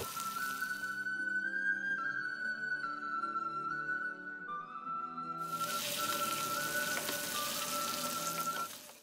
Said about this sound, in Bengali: এখন আমি টুনা ফিশগুলোকে হলুদ লবণ মাখিয়ে ভেজে নিচ্ছি।